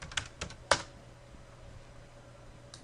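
A few quick keystrokes on a computer keyboard, close and crisp, clustered near the start with one sharper tap, then quiet room tone and a final faint click.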